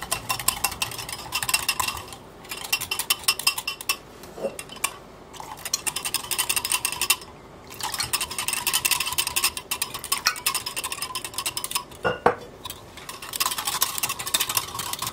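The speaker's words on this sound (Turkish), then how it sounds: "1 su bardağı yoğurt, 1 yemek kaşığı dolusu un, 1 adet tam yumurtayı pürüzsüz olana kadar karıştıralım" A whisk beats yogurt, flour and a whole egg in a bowl, giving rapid metallic scraping and clinking in bursts with short pauses between them, close and moderately loud.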